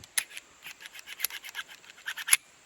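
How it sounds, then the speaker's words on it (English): A Springfield Armory Hellcat Pro pistol slide racked slowly, giving a series of dry scraping, grinding clicks close to the mic, with a sharper snap near the end and no talking. "It's like something's grinding this thing."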